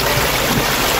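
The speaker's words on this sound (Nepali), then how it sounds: "यहाँनिर चाहिँ ठुलो मुहान रहेछ" Water flows steadily from a large spring beside a village river, a continuous broadband rush and trickle, close and fairly loud, with no talk over it.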